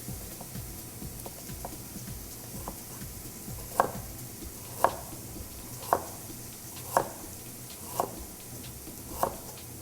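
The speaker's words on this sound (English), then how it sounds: "We're going to slice up that ginger." Knife slicing through fresh ginger on a cutting board, six evenly spaced crisp chops about a second apart, close and clear over a steady background hum.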